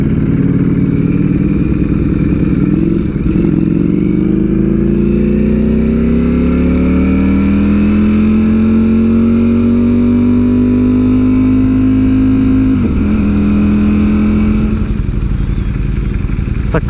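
A motorcycle engine, with a friend's new 2021 BMW S1000 alongside a Ducati StreetFighter V4S, roars loud and close, its pitch climbing steadily through the gears as it accelerates.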